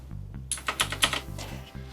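Rapid clicking keystrokes on a computer keyboard for a retro computer built around a Raspberry Pi in a 3D-printed case, tapped in uneven bursts close up over a low steady hum.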